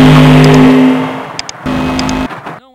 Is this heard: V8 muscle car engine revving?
yes